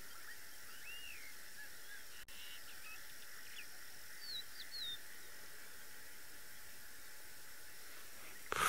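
Faint bird calls and chirps rise over a steady, hissy safari outdoor ambience in the morning, distant and sparse, with no voices.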